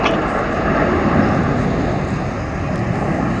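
Red Arrows jet aircraft fly the 5-4 split formation, a steady, loud, broad roar of jet engines that holds nearly constant for a few seconds, with no voices.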